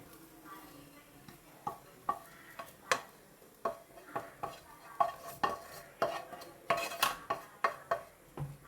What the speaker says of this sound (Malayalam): ഇനി നമുക്കിതൊരു പാത്രത്തിലേക്ക് മാറ്റി കൊടുക്കാം